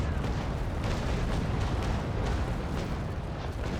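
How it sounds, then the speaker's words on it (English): A ship's cannon broadside in the Naval Action video game fires as a rapid run of deep booms and bursts, packed close together into a dense, continuous roar of naval gunfire. "cannons are loaded. Get a good shot on him this time."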